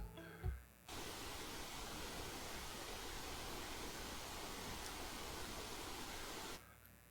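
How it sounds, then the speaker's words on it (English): A steady, even wash of pink noise with a deep, soft rumble, starting after a brief thump and stopping abruptly near the end. "Here is an example of pink noise."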